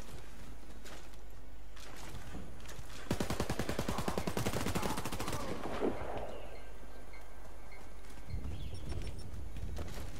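Golden Dragon AK-12 automatic fire in Warface, a rapid, evenly spaced burst of shots lasting about three seconds in the middle, loud and close against quieter game background sound.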